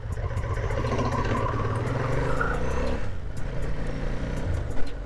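A 2004 Ducati 1000 ST3 sport-touring motorcycle is ridden and shifted up through the gears, its engine note a steady, moderately loud drone with brief breaks at each shift.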